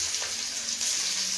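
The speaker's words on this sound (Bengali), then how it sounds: "মশলা দিয়ে মশলাটাকে ভেজে নিচ্ছি।" Whole spices, whole garlic and dried red chilies fry in oil in a wok-style pan for a mutton curry, a continuous bright hiss with no talking.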